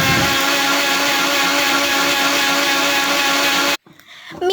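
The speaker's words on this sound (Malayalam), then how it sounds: "പിന്നെ ആവശ്യത്തിനുള്ള വെള്ളം കൂടി ചേർത്ത് മിക്സിയിൽ നന്നായി അടിച്ചെടുക്കുക" An electric mixer grinder blending juice ingredients with sugar and water, a loud, steady whirring motor drone held for several seconds, then cut off abruptly, followed by a few faint clicks.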